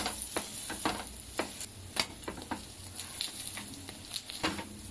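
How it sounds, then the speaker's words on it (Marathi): Bread pakoda sizzles and crackles in oil on a hot tawa, with scattered sharp pops and stirring scrapes over a steady frying hiss, close and moderately loud, with no talking. "आता छान खरपूस असे आपण हे ब्रेड भाजून घेऊया."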